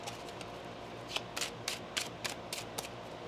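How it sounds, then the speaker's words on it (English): Tarot cards being shuffled by hand: a quiet run of crisp riffling bursts, about six of them in quick succession, close up over faint room hiss. "One more shuffle."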